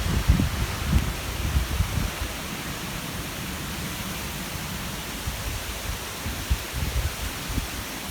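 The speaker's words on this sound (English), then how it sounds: "very windy today" Steady outdoor wind rushing and buffeting the microphone, with low gusty rumbles and a constant hiss, no voices.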